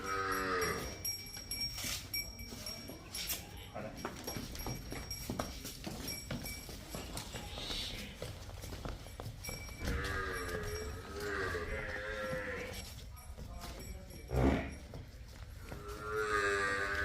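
Buffalo heifers on a farm low repeatedly, several drawn-out moos rising over a steady background, some near and loud, with faint voices now and then.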